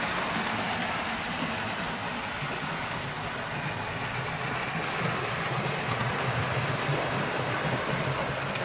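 Loft model railway train climbing an incline with a Terrier tank engine banking at the rear behind a 0-4-4, a continuous low rumbling and whirring of motors and wheels on track, fairly steady with a slight rise near the end.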